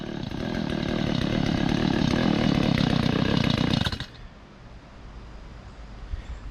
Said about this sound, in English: This chainsaw keeps toying with him.